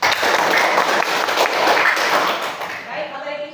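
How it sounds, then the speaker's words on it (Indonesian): A classroom group claps together in a short burst of scattered hand applause, close and fairly loud, fading out toward the end, with voices murmuring underneath. "Berikan tepuk tangan."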